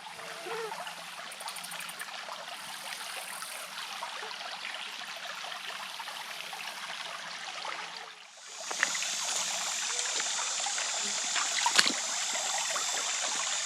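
Creek water flows and trickles steadily through the woods, a continuous broadband wash that briefly dips near the middle before returning brighter and slightly louder, with no voices.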